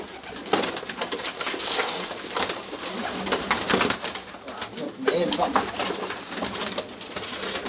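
Pigeons cooing and fluttering while being fed, a dense, continuous burble of coos close by, with people talking over them now and then.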